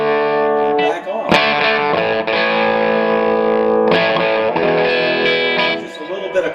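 Electric guitar with a light crunchy overdrive rings out in sustained chords, loud and close, with a sharp new strum around the middle and the tone fading slightly at the end.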